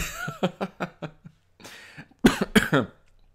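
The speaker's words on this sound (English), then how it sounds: "You made me cough" A burst of repeated coughs, several rapid hacks followed by a pause and then a couple of louder, harsher coughs, close and with no speech.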